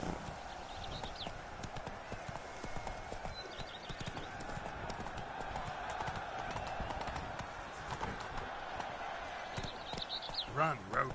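Roach gallops fast in The Witcher 3, hooves pounding in a quick, even rhythm over music and ambient game sound, with someone speaking over the hoofbeats.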